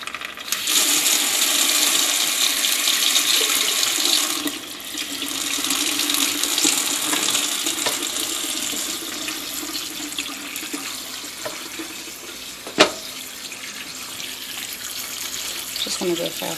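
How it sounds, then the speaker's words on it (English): Tap water runs steadily into a crock pot as it fills, a continuous close hiss and splash with a brief sharp knock midway and faint background noise. "I'm just going to fill up the crock pot with water"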